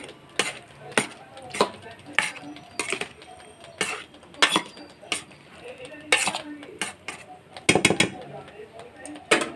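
A spoon stirs garam masala powder into a pot of cooking food, making a string of close, sharp metallic clinks and scrapes at an uneven rhythm, with no talking.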